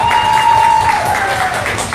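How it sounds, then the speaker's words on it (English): Audience applause at a live panel event, a steady wash of clapping from a crowd filling the room for two seconds, with a sustained tone and some voices mixed in. "Everybody, round of applause for Frank"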